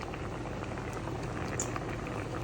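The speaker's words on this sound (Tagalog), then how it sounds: "diretsyo ko na siyang pinakuluan. Di ko na siya ipinirito." Tilapia boils directly in coconut milk without frying first, producing a steady, close bubbling simmer that continues evenly throughout.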